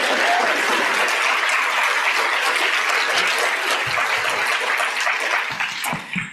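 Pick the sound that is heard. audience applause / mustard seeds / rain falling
audience applause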